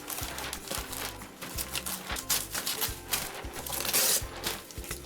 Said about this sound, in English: make sure you have a really great pair of scissors to get some straight cuts